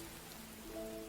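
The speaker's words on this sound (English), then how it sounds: "we have rainfall now" Steady rainfall patters over a surface in the Mordhau Survival RPG mod, a soft continuous hiss of drops at low volume with a faint tonal hum beneath.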